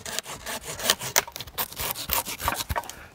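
A tree branch being cut back with pruning tools: a close, quick series of rough rubbing and snapping woody strokes in an uneven rhythm, with no talk.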